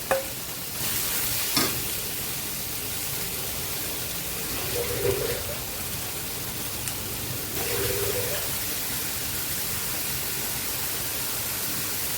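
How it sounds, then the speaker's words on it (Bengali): Spice masala sautéing in a pan for a Bengali rui fish and brinjal curry, a steady broadband sizzle running throughout, broken by a few brief stirring scrapes and clinks. "মশলাটা আমি দিয়ে কষিয়ে নেব।"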